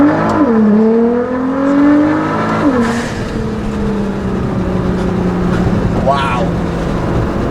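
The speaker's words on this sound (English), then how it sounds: "We'll go full throttle out of here in a second." A modified 2015 Nissan GT-R with a Meisterschaft exhaust, tune and GFB blow-off valves accelerates hard at full throttle, its loud close engine note climbing and dropping between shifts over several seconds.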